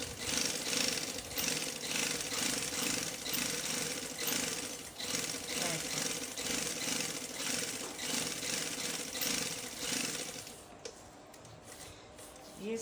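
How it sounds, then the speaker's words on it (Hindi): Sewing machine stitching fabric: a steady, rhythmic mechanical whir and clatter nearby that runs for about ten seconds, then stops, leaving a quieter room. "तो बड़ी चाल करके इधर सिलाई लगा लूँगी।"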